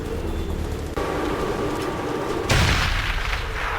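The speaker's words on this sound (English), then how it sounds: "They are suddenly blasted with enemy mortars." Enemy mortar rounds blasting on a snowy Afghan mountainside, a loud sustained roar of explosions with a sharper, brighter blast surging in partway through.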